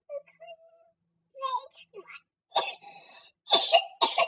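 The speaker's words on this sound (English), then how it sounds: "Woman can't even get her thoughts out without more crying and coughing." A woman coughing repeatedly amid crying, several harsh close bursts in a quiet room, with softer vocal sounds in between.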